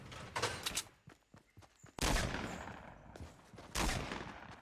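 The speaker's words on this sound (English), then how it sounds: "Who's shooting?" Gunfire in Fortnite: quiet bursts of rapid shots early on, then two heavier booming blasts, heard faintly within game audio.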